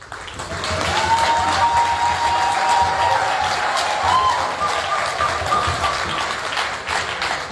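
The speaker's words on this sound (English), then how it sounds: "Now can you have a thunderous hand clap for the president?" A large crowd applauds and cheers steadily for a political leader at an outdoor-style rally in Chicago, dense clapping sustained throughout with a faint whistle or tone riding above it.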